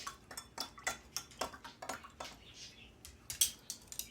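A metal spoon clinks rhythmically against the sides of a pot while stirring milk for homemade mozzarella, a quick series of close, bright taps.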